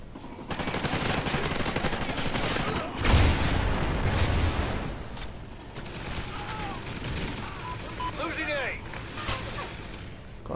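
Rapid gunfire from the video game Call of Duty: Ghosts, a steady loud burst of shots running throughout with a heavier boom near the start, under continuous game noise and a talking voice.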